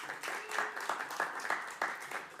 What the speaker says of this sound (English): Staff and students here at St Leonard's, please give them a round of applause